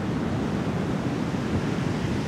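Ocean waves of moderate size breaking and running up onto a beach, a continuous loud roar of surf with some wind noise on the microphone and no talk.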